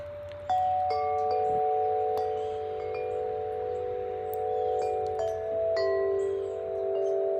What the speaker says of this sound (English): Let's ring the wind chime.